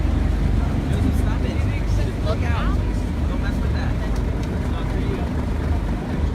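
Vehicle engine idling loudly and steadily while cars queue at a ferry landing, a constant low rumble filling the scene with some voices faintly mixed in.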